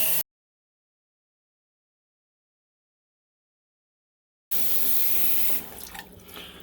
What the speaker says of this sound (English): we'll put a stopper in and then fill up the sink